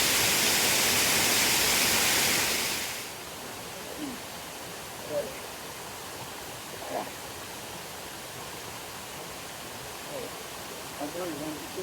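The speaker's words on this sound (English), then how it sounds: "This is a cool waterfall." Waterfall rushing as a loud, steady broadband roar for about three seconds, then cutting away to a much quieter outdoor ambience with a few faint, brief sounds.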